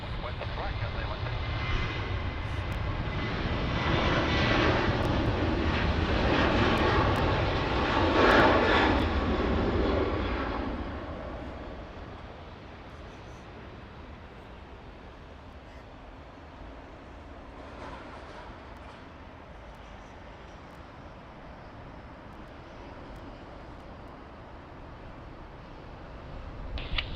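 A Cathay Pacific heavy jet airliner rumbles on the runway at Sydney Airport, its engine roar loud and broad for about ten seconds before easing to a steady lower hum that continues to the end.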